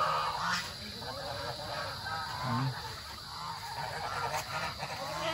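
Escaped turkeys call outdoors on a farm, with honking, gobbling cries rising now and then over a steady background hiss and faint murmurs.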